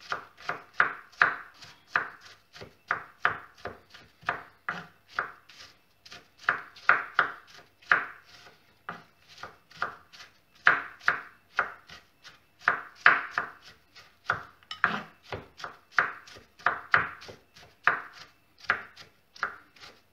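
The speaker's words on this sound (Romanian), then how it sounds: "la un borcanel am să pun jumătate de măr. Și îl tăiem așa bucățele mărunțele." Half an apple is chopped into small pieces on a board with a knife: a long run of crisp, close, evenly spaced chops that keeps a steady rhythm with brief pauses.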